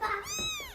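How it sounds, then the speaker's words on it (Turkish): A cat lets out a single short, rising-and-falling meow, close and clear, with no voices. "Bir yerden kedi sesi geliyor."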